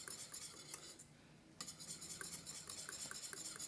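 A whisk scrapes and clinks quickly against a pot of cooking sugar wax, a fast, steady metallic stirring rhythm, faint and close, with a short lull before resuming.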